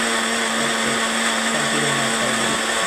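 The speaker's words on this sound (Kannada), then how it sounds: "ಈಗ ನೀರು ಹಾಕ್ಕೊಂಡು ಮಿಕ್ಸಿ ಮಾಡ್ತಾಯಿದ್ದೀನಿ" A mixer grinder whirs steadily as it blends orange juice with water, a loud continuous motor drone with a grinding buzz that holds unbroken throughout.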